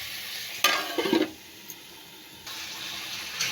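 Pui shak greens go into hot refined oil in a pan with a sudden loud sizzle, followed by a few scraping stirs, then a quieter stretch before the frying hiss rises again.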